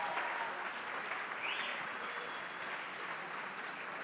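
Crowd at a Suffolk County Democratic Committee spring dinner applauding the lieutenant governor, a steady wash of clapping from a roomful of people at moderate distance, with no talking.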